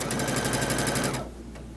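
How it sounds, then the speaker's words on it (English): A computerized sewing machine sews a straight stitch with a rapid, steady mechanical chatter up close, then abruptly stops, leaving a low hum. "So I'm going to go ahead and hit OK and sew out my straight stitch here."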